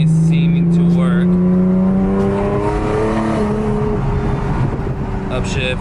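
Engine of an Infiniti Q50/Q60 rising and falling in pitch as gears change through newly installed paddle shifters, heard close from inside the moving car with steady wind noise and a voice talking over it.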